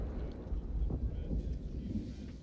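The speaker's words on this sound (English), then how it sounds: "That sounds like a hell of a storm brewing outside" A heavy thunderstorm rumbles outside in the video game Elder Scrolls Online, heard from inside a Morrowind pub: dense low rumbling and steady rain wash with no pauses, loud and continuous throughout.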